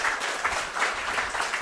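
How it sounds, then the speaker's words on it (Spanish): Audience applause fills a short stretch at a Spanish-language talk gathering, a dense, steady patter of many hands clapping at moderate level with no voices on top. "Un aplauso para él."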